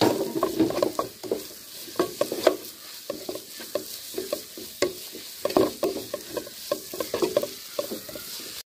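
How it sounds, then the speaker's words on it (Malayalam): Tomato and grated coconut stirred and fried in a pan for masala bread, rhythmic spatula scrapes and taps over a low sizzle, close and uneven in loudness. "ഇനിയിപ്പോൾ നമ്മൾ തക്കാളിക്കാണ് ഇട്ട് കൊടുക്കുകയാണ്. അപ്പം നമ്മൾ ചിരണ്ടി വെച്ചിട്ടുള്ള തേങ്ങയും ഇട്ട് കൊടുക്കുകയാണ്."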